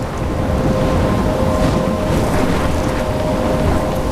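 Storm at sea in the video game Life is Strange: a loud, constant roar of wind and crashing waves fills the scene with no break and no voices.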